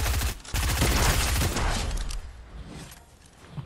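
Flintknock pistol shots from Fortnite, a dense burst of loud, booming reports packed close together for the first half, then fading into a lower, rumbling tail with a last faint pop at the end.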